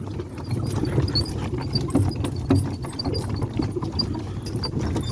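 Hooves of a draft horse stallion clop steadily on hard ground in an even walking rhythm, close by, with a faint mechanical hum behind.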